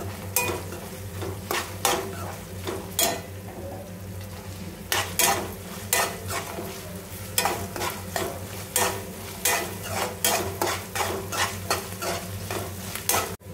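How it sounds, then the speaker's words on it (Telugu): Cashews fry in a pan for a paneer curry, giving repeated rhythmic stirring scrapes roughly every half second over a constant low hum and sizzle, close and loud, with no talking. "ఇందులోకి కాజూస్ కూడా యాడ్ చేస్తున్నా. కొద్దిగా ఫ్రై అయితే బాగుంటుంది కాజూస్ కూడా."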